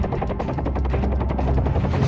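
American helicopters fly low over the sea, a loud, steady rotor thrum with rapid rhythmic chopping pulses, close and continuous throughout.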